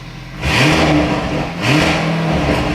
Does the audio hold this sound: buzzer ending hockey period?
no